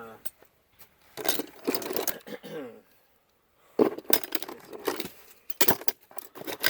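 Glass items clink and rattle in short bursts as they are handled and shifted inside a storage locker, with pauses in between and people talking nearby.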